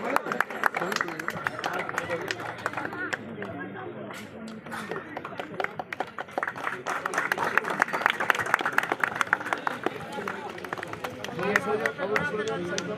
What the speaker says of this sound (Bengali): তো আমরা জোরে সবাই করতালি দিয়ে অভিনন্দন জ্ঞাপন করি।